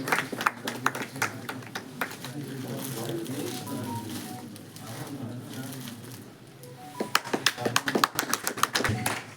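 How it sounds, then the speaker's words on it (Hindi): Audience applause for Arun ji at a memorial gathering of a Gorakhpur journalists' association, with scattered claps building into a loud burst of close hand clapping after a stretch of murmuring voices in the hall. "और मैं चाहूंगा कि सब लोग एक बार जोरदार तालियां अरुण जी के लिए जरूर बजाएं।"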